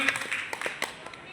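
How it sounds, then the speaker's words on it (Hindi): A small group at a training session claps for a participant, a thin scattering of distinct hand claps at moderate distance, fairly quiet and brief. "जोरदार तालियां दीदी के लिए"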